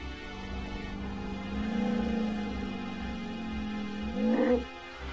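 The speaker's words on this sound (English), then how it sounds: "I hear an elephant." An elephant calls in the Animalia video game, a long low rumbling tone that holds steady for several seconds, then swells into a louder, higher bellow near the end over a quiet game background.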